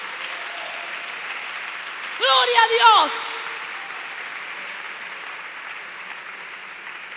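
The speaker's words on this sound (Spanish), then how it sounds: "Denle un aplauso a él mejor." A church congregation breaks into a short burst of applause during a Spanish-language sermon, lasting about a second over steady room noise, with a voice speaking around it.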